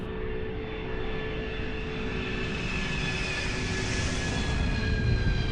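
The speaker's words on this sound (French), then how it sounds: "ce balai incessant d'avions qui décollent et atterrit" Aircraft engines roaring steadily as airplanes take off and land near a detention centre, a sustained loud jet drone that swells slightly toward the end, heard alone.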